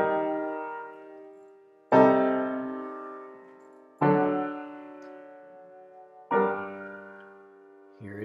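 A musical passage built on half-diminished seventh chords is played as four separate struck chords, each ringing out and slowly fading before the next, with no talking.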